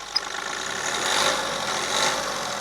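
A tractor engine running and being revved, a steady mid-pitched rumble with gentle swells in power and one brief sharp tick near the start; no voices.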